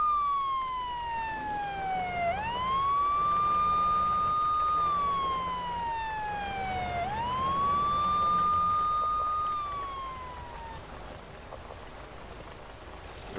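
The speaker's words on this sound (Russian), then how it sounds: "Вместо сигнала сирена включается." A SpinTires video game siren on a UAZ-469B: a wailing electronic tone sweeps down and back up in slow repeating cycles, loud and steady over a low rumbling background, with no talking.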